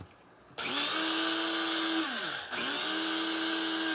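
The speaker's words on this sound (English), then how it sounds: "I've got an old coffee grinder here, which is my spice grinder" An old electric coffee grinder, used as a spice grinder, whirs loudly as it grinds spices. It starts abruptly, holds a steady, strained motor drone and sags in pitch twice as the load shifts.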